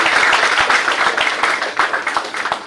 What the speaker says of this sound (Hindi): तालियां आपकी जोरदार।